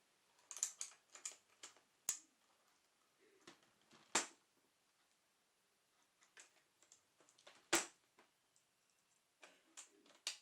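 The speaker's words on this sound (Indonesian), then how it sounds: "ini ada video pribadi gua bersihin keyboard" A computer keyboard being cleaned, in an ASMR setting, gives scattered crisp key clicks and taps in irregular clusters, with a few sharper louder knocks, close and quiet with no voices.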